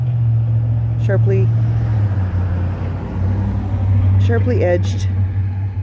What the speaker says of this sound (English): Pardon the traffic going by.